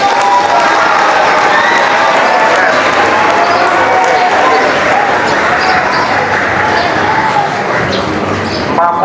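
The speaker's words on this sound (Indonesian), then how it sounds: "tepuk tangan dulu, ya." A large crowd at an Indonesian school flag ceremony for National Education Day claps loudly and steadily, a dense, continuous wash of applause that fills the whole stretch with little variation.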